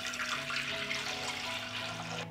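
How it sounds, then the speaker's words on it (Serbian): Cold water, about a litre, is poured into a 6-litre pot holding jars: a steady, close rushing splash that runs evenly and cuts off just before the end. "sipat ću litar hladne vode"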